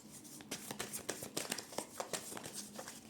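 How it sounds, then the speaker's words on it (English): Soft, quick riffling and slapping of cards being shuffled close by, in short irregular bursts with a faint voice beneath. "Shuffling live and in front of the camera."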